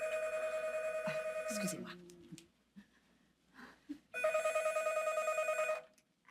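A telephone rings in two loud, steady electronic bursts separated by a short pause, with someone briefly speaking and some rustling in between.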